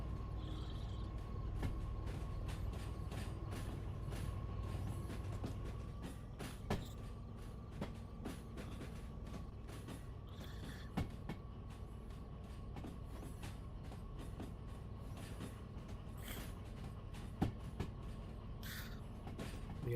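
A train runs continuously in the Derail Valley video game, giving a steady low rumble with a constant tone and scattered clicks and clanks of wheels over track.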